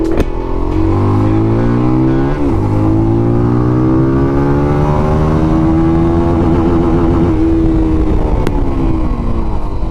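A QJMotor Race 250 motorcycle engine pulls hard in first gear, its loud, buzzy tone climbing steadily in pitch over ten seconds with a brief dip near the start, close and continuous.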